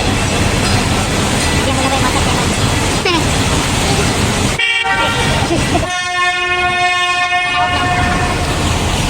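Horn blasts from a canal tour boat on the Erie Canal at Buffalo, answered by the lift bridge's own horns: loud sustained tonal toots over steady engine and water rumble, one long blast followed by further horn signals.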